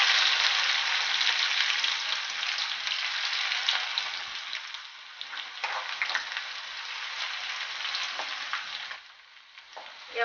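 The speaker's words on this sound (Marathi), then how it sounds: "हे आपलं आता लसूण भाजून तयार झालेलं आहे।" Garlic frying in hot oil with mustard seeds and cumin gives a steady, bright sizzle with crackling pops that softens toward the end, with no talk.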